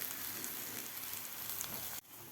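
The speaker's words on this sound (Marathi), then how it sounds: "आता दोन्ही साईडकडून आपल्याला हे गोल्डन कलर होईपर्यंत असं खरपूस भाजून घ्यायचं आहे थालीपीठ" Vegetable thalipeeth flatbread roasts on a pan until golden, giving a soft, steady sizzle with faint crackles, quiet and unbroken until a brief dip near the end.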